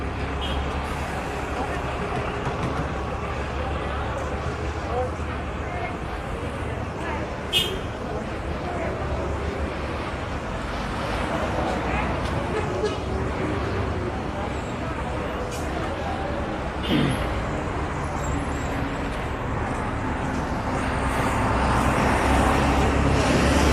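Busy street traffic on Carlos III avenue in Havana, with buses and cars rumbling past in a continuous loud roar, engines swelling and fading nearby and occasional clanks, and people talking faintly in the background.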